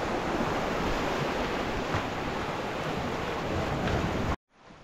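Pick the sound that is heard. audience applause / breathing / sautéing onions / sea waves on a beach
sea waves on a beach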